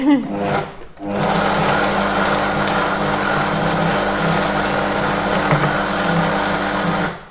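A food processor chops a flax mixture with a loud, steady motor whir lasting several seconds, close by and alone, after a brief first burst.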